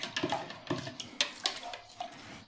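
Dough being mixed for homemade bread, with a run of irregular scraping and knocking strokes against a bowl, moderately close and fairly quiet, with no talking.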